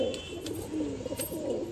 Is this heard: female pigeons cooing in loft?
yes